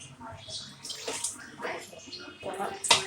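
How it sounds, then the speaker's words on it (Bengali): Water poured by hand over peeled palm fruit with salt, several short splashing pours and trickles in bursts, close and fairly loud. "লবণ দিয়ে পানি দিয়ে মেখে ভিজে রাখবো"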